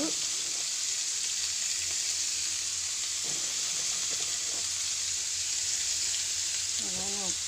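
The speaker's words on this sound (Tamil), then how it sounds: "அதெல்லாம் ஊற்றி தக்காளி சட்னி ரெடி ஆகிட்டு இருக்கு பார்த்தீங்களா. அது நல்லா வதங்கட்டும்." Tomato chutney sizzles steadily in a pan, a continuous close frying hiss with a few faint stirring knocks and a brief voice near the end.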